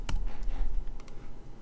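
Computer keyboard keys clatter in a quick run of close clicks and taps, a couple of sharper strikes standing out over a low background hum.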